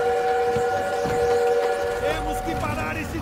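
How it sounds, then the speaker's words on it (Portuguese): A train in the World War II shooter Call of Duty WWII rumbles steadily with sustained whistle-like tones and rising metallic squeals over game background noise. "Temos que parar esse trem!"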